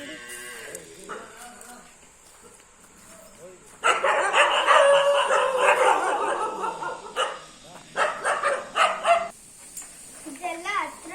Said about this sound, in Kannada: ಡಾಗ್ಸ್ ಎಲ್ಲ ಇದೆ ನೋಡಿ.